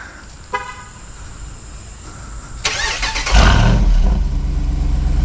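A short chirp and a click as a 2024 Jeep Wrangler Rubicon 392 V8 is remote started, then the engine cranks and catches, settling into a deep, loud idle rumble through performance exhaust.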